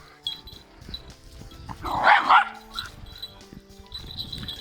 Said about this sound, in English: Excuse me, my dog.